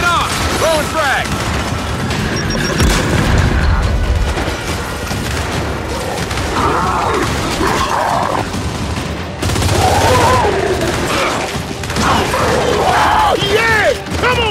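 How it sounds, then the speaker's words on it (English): In the Gears 5 video game, a frag grenade explodes amid a chaotic firefight. Loud booms and shattering debris mix with continuous gunfire and mechanical clatter, while voices shout over the din. "Throwing frag!"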